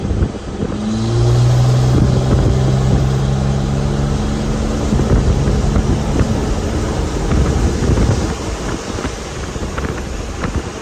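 A Cummins-powered truck accelerates hard, its deep engine roar rising and holding. A shift seems to fall partway through, with strong wind buffeting the microphone throughout. It is loud and near, with no talk.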